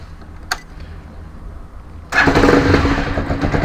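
An RKS Winner 200 motorcycle starting with a single press of the starter after a brief click, then settling into a steady, loud, close idle that runs on alone.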